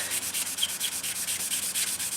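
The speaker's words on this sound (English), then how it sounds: "And keep sanding it." A car headlight lens being sanded by hand: steady, close scratchy strokes in an even back-and-forth rhythm, roughly ten passes with no voices.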